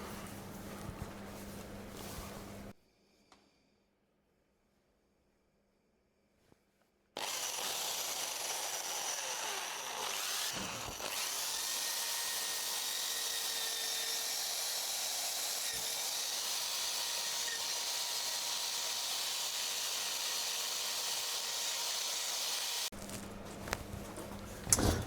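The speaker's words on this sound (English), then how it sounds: "So we'll start with the wire brush," A wire brush scrubbing rust off a motorcycle exhaust, a loud, continuous hissing scratch that lasts about sixteen seconds after a brief silence, close to the microphone, with some lower workshop noise before and after.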